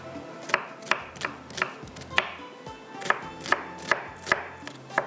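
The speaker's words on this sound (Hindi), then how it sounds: "मुझे आधी प्याज भी इसको टुकड़ों में काट लेंगे" Half an onion chopped into pieces on a board for a deggi mutton recipe, about a dozen crisp, close knife strikes in a loose, uneven rhythm with no talking.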